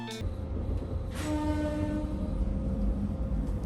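A train on a Hokkaido railway line, running slowly, gives a low rumble with a sustained horn-like tone and faint rail clatter, close and steady.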